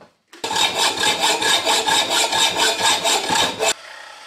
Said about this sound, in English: Just going to put an hole in each end for the paddle and the lever that turns the actual paddle itself.